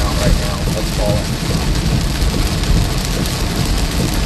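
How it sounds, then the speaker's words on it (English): Heavy rain pours down during flash flooding in southern Iowa, a dense, loud, continuous roar of water hitting surfaces close by, with a faint low rumble underneath. "it's still pouring. I mean, this is some heavy rain"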